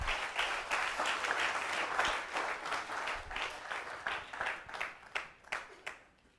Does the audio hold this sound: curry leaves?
no